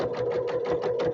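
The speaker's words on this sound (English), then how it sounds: "Now that's sewing." A sewing machine stitching fabric for a toiletry bag, a quick close run of about six even, rhythmic needle strokes heard alone.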